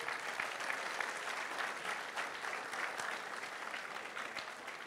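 An audience applauds a pastor at a church family event, steady and sustained clapping filling the hall for the whole stretch at an even level.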